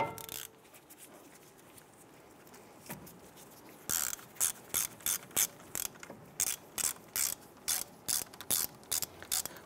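A ratchet wrench with a 15 mm socket loosens the brake caliper hardline bolt on a 2002-2008 Dodge Ram 1500, starting with faint scraping and handling, then a steady series of close, crisp clicking ratchet strokes.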